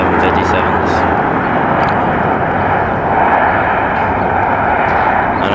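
A United Boeing 737-900 airliner lands at Sacramento airport with a loud, continuous jet engine roar close by, steady throughout, while a person talks over it.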